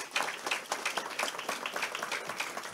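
Audience at an Islamic religious talk clapping together in a short, rhythmic patter of hand claps, moderately distant and fairly soft, with no speech over it.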